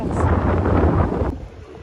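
Wind buffets a microphone outdoors at a coastal lagoon on Gozo, Malta, giving a loud, continuous low rumble with gusty roar that drops away abruptly near the end.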